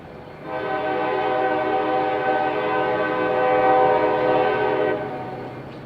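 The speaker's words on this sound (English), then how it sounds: "You can never argue with the sound of an EMD 645 screaming its guts out." A CSX diesel locomotive with an EMD 645 engine at full power sounds its horn in one long, loud, steady blast lasting several seconds, with the rumble of the moving train beneath it.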